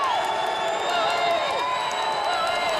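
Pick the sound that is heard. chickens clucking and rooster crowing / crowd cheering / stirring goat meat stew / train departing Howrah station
crowd cheering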